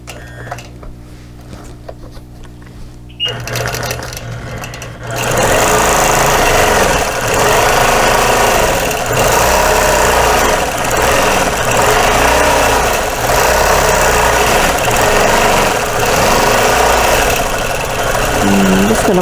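A quilting sewing machine stitching a heart and feather pattern on a Lone Star quilt background runs as a loud, continuous mechanical whir with a rapid rhythmic chatter, starting after a few seconds of quieter hum and holding steady to the end.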